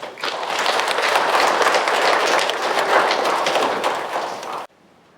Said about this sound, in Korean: 뜨거운 마음으로 박수를 보내시도록 합시다